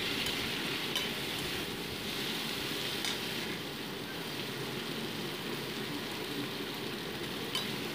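Onion and potato fry in a pan for a prawn dish, with a soft, steady sizzle and occasional faint clinks of stirring, fairly quiet and continuous.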